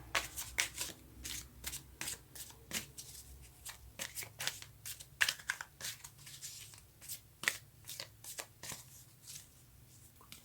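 Tarot cards being shuffled by hand, a steady run of crisp riffling and slapping bursts throughout, fairly close and alone with no talk.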